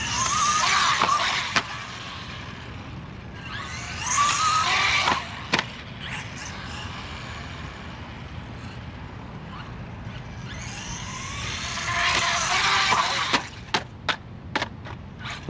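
Electric RC Ford Bronco truck, an FMS FSC18 with noticeable torque steer, buzzes with motor and tire noise as it runs up to and clears a small tabletop jump outdoors, with clattering landing thumps and a second burst of driving near the end.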